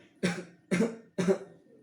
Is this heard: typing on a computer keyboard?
no